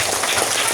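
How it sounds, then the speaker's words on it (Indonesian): Children clapping their hands together, a dense burst of rapid claps heard close. "Oke, tepuk tangan dulu dong."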